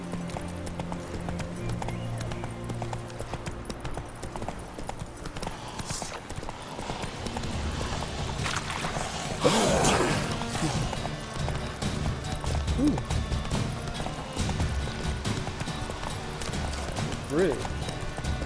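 The horse Roach from the video game Witcher 3 gallops with rhythmic clip-clopping hooves throughout, under a brief spoken remark and ambient game sounds, with a louder burst near the middle.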